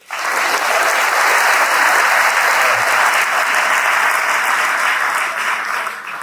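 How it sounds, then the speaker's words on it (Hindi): A large audience in a hall bursts into sustained applause after a poetry recitation, loud and dense clapping that holds steady for several seconds before easing slightly. "मैं चाहती हूँ पूरा सदन इनके सम्मान में तालियां बजाए।"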